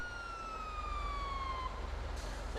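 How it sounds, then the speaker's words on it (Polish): An ambulance siren in GTA 5 wails in a long falling sweep, moderately loud over a low rumbling engine, then fades. "A ta karetka gdzie spierdala?"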